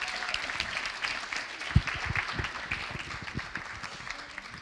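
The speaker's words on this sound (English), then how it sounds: "they also deserve a round of applause" Audience applause for conference volunteers at a Lausanne event, a moderate, steady patter of clapping with a few louder individual claps standing out, heard from within the room.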